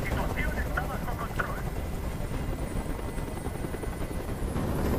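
A hovering helicopter from the game Detroit: Become Human, a loud continuous rotor thrum with steady chopping, filling the whole scene while a voice speaks over it.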